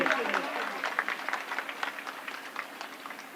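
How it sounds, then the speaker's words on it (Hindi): Applause from the audience at an inauguration ceremony for an RO plant and bakery plant, a dense patter of many hands clapping steadily throughout. "ताली आप लोग बजाएंगे। जोरदार तालियां,"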